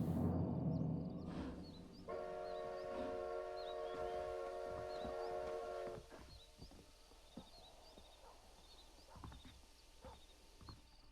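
A train pulls into a station in Red Dead Redemption, with a steady whistle-like tone sounding for several seconds among clattering, clopping ambient noise and distant birds.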